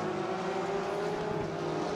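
Porsche 911 GT3 R race car engines in the RaceRoom racing game, a loud, steady, howling engine drone held for a couple of seconds with no talk over it.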